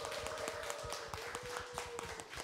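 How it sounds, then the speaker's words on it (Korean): An audience claps at a Korean Buddhist talk event, a faint, fairly regular series of light claps heard at a distance, quiet and thin throughout. "우리 박수로 함께 시작해볼까요?"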